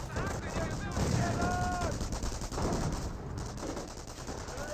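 MP-40 submachine guns fire in a Company of Heroes battle, dense rapid bursts of gunfire layered with distant battle noise and whistling effects, while a commentator talks over the action.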